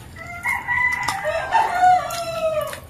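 Several roosters crow nearby at midday in a Filipino neighborhood, their long rising calls overlapping in a loose series with occasional clucks, fairly loud and with no talk over them.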